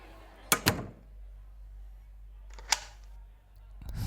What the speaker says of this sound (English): Close the door, please, and lock it.